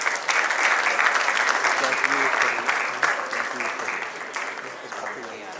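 Audience applause for a debate team at a national awards felicitation, a dense, loud wash of clapping that starts abruptly and tapers slowly as it thins out.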